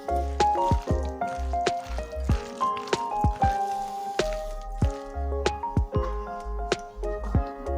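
Gram flour batter for potato pakoras is stirred with water in a bowl, producing close, wet squelching and slapping sounds in a quick, uneven rhythm.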